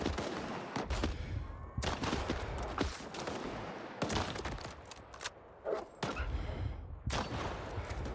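Repeated gunfire in the shooter STALKER 2: loud, sharp bursts and single shots at irregular intervals, with a continuous rumble of combat between them.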